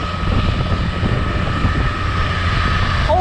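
A steady, droning Cabri G2 helicopter engine hums close by with a low rotor throb, continuous and fairly loud throughout.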